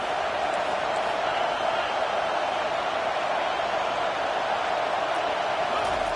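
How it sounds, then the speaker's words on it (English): A football stadium crowd roars steadily to disrupt the offense, a dense, continuous wash of distant cheering and shouting with no pauses. "This crowd trying to make life miserable for this offense."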